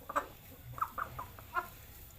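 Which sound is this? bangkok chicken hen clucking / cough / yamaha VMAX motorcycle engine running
bangkok chicken hen clucking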